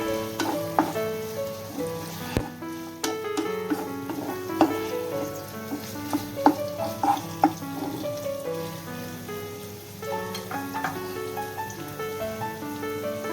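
A fish noodle mixture with a splash of vinegar is stirred in a frying pan. A steady sizzle runs throughout under close, repeated scraping and clinking of the spoon against the pan, and no talking is heard.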